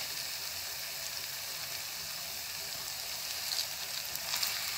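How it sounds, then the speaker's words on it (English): Green plantain slices frying in shallow oil at the bottom of a pot, giving a steady, dense close sizzle with a couple of slightly louder crackling bursts near the end. "So you just fry it until it's golden brown"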